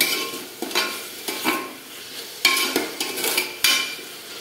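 Onions sautéing with salt and turmeric in a pan for chicken biryani, a steady close sizzle broken by repeated sharp scrapes and clatters of a spoon stirring every half second or so.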